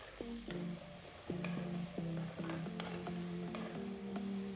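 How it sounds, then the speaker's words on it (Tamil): Shallots, chopped onion and curry leaves sizzle and sauté in a pan, a steady close frying hiss broken by repeated scraping stirs of a utensil against the metal. "இதெல்லாம் போட்டு நல்லா வதக்குங்க."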